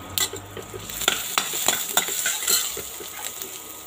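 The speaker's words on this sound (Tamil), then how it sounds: "இஞ்சி, பச்சை மிளகாயெல்லாம் சேர்த்துக்கலாங்க. இதெல்லாம் நல்லா வதக்கிக்கலாம்" Ginger, green chili and garlic sautéing in a hot pan, a steady sizzle broken by repeated scrapes and stirring knocks of a utensil against the metal.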